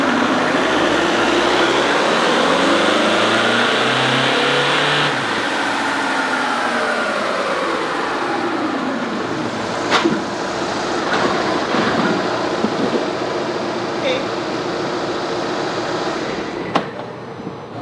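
A Volkswagen Jetta TDI diesel engine on a dyno horsepower test roars loudly and steadily, its pitch rising and sweeping through the rev range, then falling back, with a few sharp clanks near the end.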